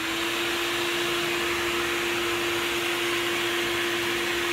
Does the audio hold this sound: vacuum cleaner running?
yes